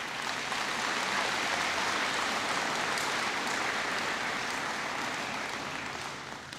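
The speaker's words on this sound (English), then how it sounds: "Please give them a round of applause." Sustained applause from the audience at a 2024 Osakis High School graduation ceremony, a dense, even wash of many hands clapping that fades slightly toward the end, with no speech over it.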